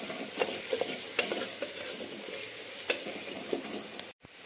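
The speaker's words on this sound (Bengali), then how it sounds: "এগুলো দিয়ে আমি আবার মশলাটাকে কষাতে থাকবো।" Masala spiced with Kashmiri red chili powder sizzles steadily as it is stir-fried for a handi chicken, with occasional scraping clicks of the spoon against the pot and a brief drop near the end.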